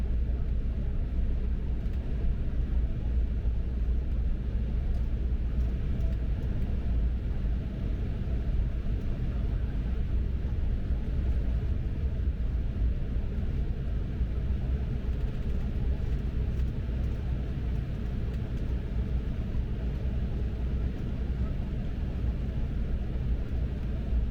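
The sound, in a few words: American Airlines Embraer 175 airplane taxiing along the runway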